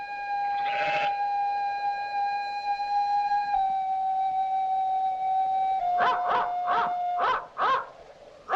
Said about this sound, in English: I always hoped there would be dogs.